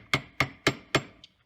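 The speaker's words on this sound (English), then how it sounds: "hammer and just tap on the end of it" Four sharp metallic hammer taps land on the end of a Generac pressure washer part at an even, steady pace, close and clear, with a faint lighter tick after the last one.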